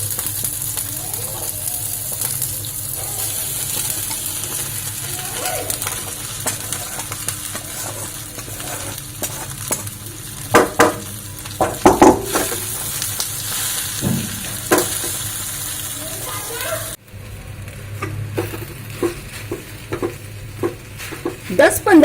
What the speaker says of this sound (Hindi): इसके बाद अब हम इसमें डालेंगे साबूदाना।